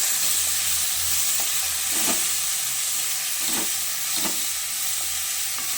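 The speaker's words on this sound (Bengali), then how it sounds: "সামান্য একটু লবণ দিচ্ছি আমি হালকা একটু নেড়ে দিচ্ছি" Salted papaya chutney being stirred in a pan, a continuous close sizzle overlaid with soft rhythmic scraping strokes of the spoon every second or so, with no talking.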